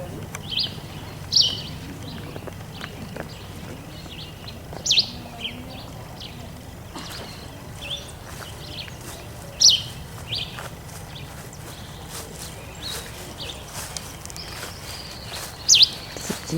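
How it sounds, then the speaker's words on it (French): Birds singing in a park in Costa Rica, short high chirps repeated every few seconds at moderate distance over a steady hum of insects and outdoor background, with faint movement noises. "Oh, les oiseaux."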